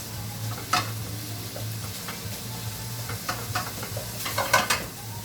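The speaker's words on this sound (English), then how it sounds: "So I'm just squashing that up, mixing that in with the onions." Turkey mince and onions sizzle in a hot pan while being squashed and stirred, with repeated scraping strokes and occasional utensil knocks over a continuous frying hiss.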